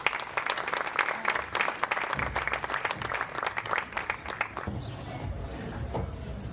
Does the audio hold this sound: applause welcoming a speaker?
yes